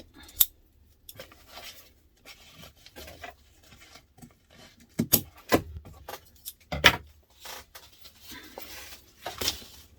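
Scissors snip through zipper tape while a laptop briefcase is being made, a series of sharp, close cuts spaced irregularly with quiet handling rustles between them.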